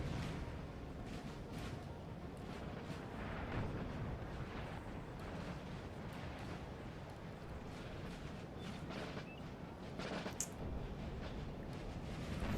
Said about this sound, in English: this artillery battle is going to go off